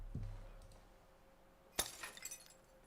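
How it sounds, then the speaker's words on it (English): Glass breaking in the visual novel Chaos;Child: a sudden sharp crack followed by a scatter of tinkling shards settling, faint and somewhat distant, after a low thud and quiet background. "Was that the sound of glass breaking?"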